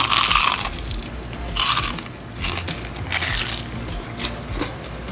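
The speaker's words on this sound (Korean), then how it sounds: "이렇게 두 번째 튀겨주면은 아주 바삭바삭한 튀김옷에 거친 표면이 딱 느껴지실 겁니다" Loud, close crunching bites into crispy twice-fried Korean fried chicken with a rough, crackly coating, several crunchy bursts followed by chewing, with no talking.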